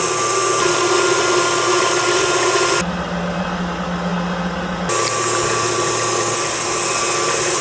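An electric mixer beats butter with sugar and vanilla sugar at medium speed for an apple pie batter, a loud steady motor whir that drops briefly to a lower hum in the middle before returning to full drone.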